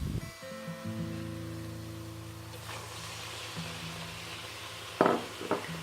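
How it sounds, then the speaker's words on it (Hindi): Minced keema tipped into a hot pan for anda keema, giving a soft sizzle that rises under a low background hum, with a couple of brief clattering bursts near the end. "और अब हम इसमें डालेंगे कीमा।"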